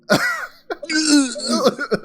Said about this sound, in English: go on, clear your throat.